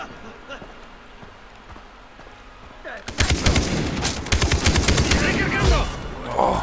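Rapid machine gun fire from the Far Cry 3 co-op game bursts in loudly, close, and sustained after a quieter opening, with repeated rattling volleys and brief pauses.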